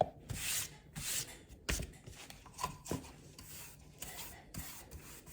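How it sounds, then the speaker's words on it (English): Stiff bristle brush spreading linen-effect paint glaze over a surface, quiet scratchy rubbing strokes repeating in an uneven rhythm, close up with no talking. "So I am going to paint this on."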